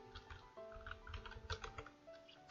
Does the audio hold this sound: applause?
no